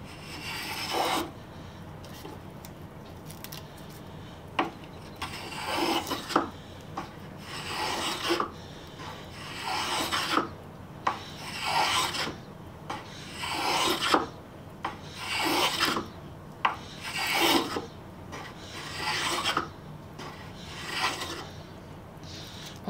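A spokeshave blade is sharpened with repeated rasping strokes, about a dozen distinct gritty scrapes in an uneven rhythm, close and clear with no talking.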